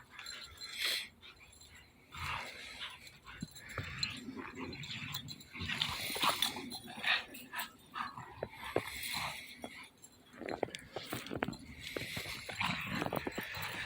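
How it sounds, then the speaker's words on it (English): An Airedale dog whimpers and whines repeatedly, with occasional yips and wheezy breaths, close and fairly clear in short uneven bursts over about fourteen seconds. "That's a really smart dog."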